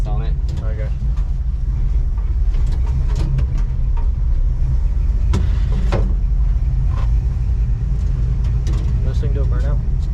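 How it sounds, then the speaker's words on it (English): A junkyard Dodge car drives around with a loud, steady engine and road rumble throughout, close up, with people talking over it. "we'll rip this thing around and go back shop"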